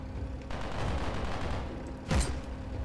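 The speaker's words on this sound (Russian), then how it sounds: "у меня одновременно все пушки пальнули" Guns mounted on a combat vehicle fire in the Steamcraft video game: a sustained crackle of shots over steady engine drone, then one louder, sharper blast near the end.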